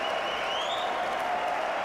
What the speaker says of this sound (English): Crowd out of their seats.